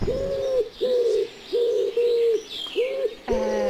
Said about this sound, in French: Ça pourrait peut-être être la tourterelle turque, je penche pour le pigeon rami